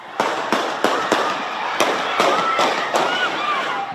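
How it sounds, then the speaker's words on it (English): Sharp, loud bangs go off in an irregular series of about a dozen reports during a crowd celebration after an NBA championship win, with rough outdoor noise between them and no clear talk. "gunshots, chaos, people running for their lives."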